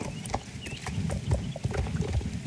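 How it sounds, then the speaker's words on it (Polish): Horse hooves clip-clop steadily in the Star Stable Online video game, a run of quick, even footfalls close by over a low background of game ambience, with no talking. "Nawet konia mają!"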